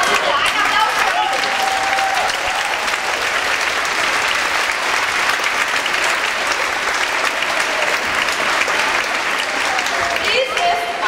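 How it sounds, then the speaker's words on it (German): An audience at a school children's singing event claps in a dense, sustained burst of applause lasting the whole stretch, loud and even, with faint voices mixed into the crowd. "Ein Applaus für uns."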